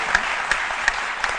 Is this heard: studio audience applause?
yes